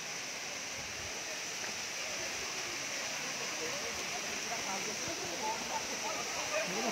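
A steady, rushing roar of the Dabarkhola Waterfall in Badamba, Cuttack, fills the scene, broad and constant, with faint voices underneath.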